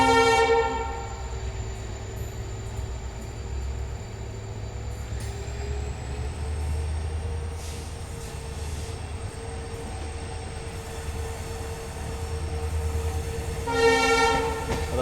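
The Rajasthan Sampark Kranti Express runs at night between Delhi and Jodhpur, with a steady low rumble of wheels and carriage beneath a sustained horn tone, and a brighter horn blast near the end.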